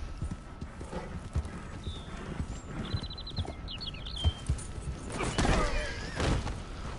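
Horse hooves galloping in the video game Red Dead Redemption 2: rapid, close clip-clop beats with a brief whinny, over a low game background.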